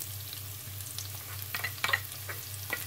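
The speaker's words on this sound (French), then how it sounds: "avec ce l'huile-là, on va sauter avec du riz" Rice sautéing in hot oil with garlic in a pan, a steady soft sizzle with light stirring scrapes and a few crackles, under a low background hum.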